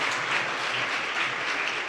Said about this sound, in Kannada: ಜೋರಾಗಿ ಚಪ್ಪಾಳೆ ತಟ್ಟಿ ಅಭಿನಂದನೆ ಸಲ್ಲಿಸ್ರಿ